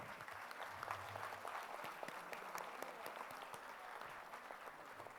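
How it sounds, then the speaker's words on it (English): Sustained applause from an audience at a school senior annual day, honouring children called to the stage, a dense even clatter of many hands heard from a distance and fairly faint throughout. "A big round of applause for these children."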